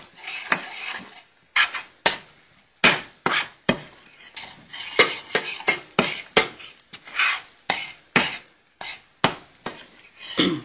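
Garlic, ginger and green chilies tipped into a hot pan for a lamb bhuna, with a run of repeated clattering scrapes and stirring knocks of a utensil against the pan, close and fairly loud, with no talking.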